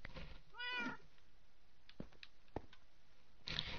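Cats meow in the Minecraft video game, with one clear, pitched meow early on, then soft clicks and brief blips. The sound is fairly quiet and close.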